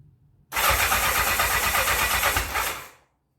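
A 1984 Honda CB700SC Nighthawk motorcycle engine cranks with the starter after a carburetor cleaning, using old fuel, a loud rhythmic churning for about two and a half seconds without catching, then stopping.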